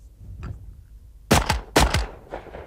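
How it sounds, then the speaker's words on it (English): Two sharp, loud blasts from a Benelli shotgun fired in quick succession during an exhibition shooting show, preceded by faint softer thumps. "that's how a Benelli shotgun shoots and aims by itself"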